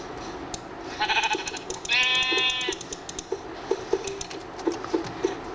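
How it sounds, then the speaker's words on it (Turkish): A sheep bleats twice, the second call longer and wavering, against a quiet background with faint clicks and taps from game sounds. "Koyun."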